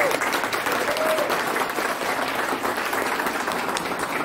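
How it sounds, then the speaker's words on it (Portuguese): Sustained applause from a room of members at a Rotary Club meeting in São Paulo, dense even clapping throughout, fairly close and loud with no gaps. "Eu quero pedir uma salva de palmas para vocês."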